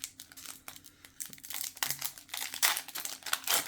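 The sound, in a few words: tearing open Pokémon XY Evolutions card booster pack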